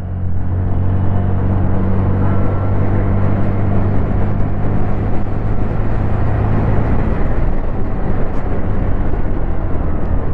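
A 2025 Honda Activa 125 scooter riding at top speed, with heavy steady wind rumble and a low engine drone, loud and continuous throughout.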